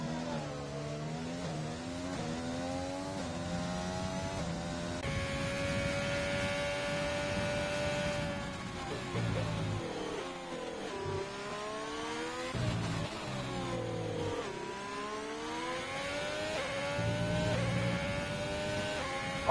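Race car engines on an outlap at Bahrain in an F2 sim racing game, high-pitched engine notes climbing and dropping through gear shifts, steady and moderately loud, with a few quieter gaps and no talk.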